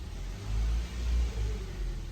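Revving engine of a Kia car in reverse gear with a gearbox fault, heard up close as a deep rumbling drone that surges in two or three brief swells, with no voices.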